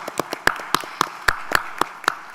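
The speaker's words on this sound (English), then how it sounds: "We can now give a big round of applause for ending this session now." A few people clapping at the close of a session at an international finance summit, sharp, evenly spaced individual claps in a steady rhythm, fairly close and sparse rather than a full crowd.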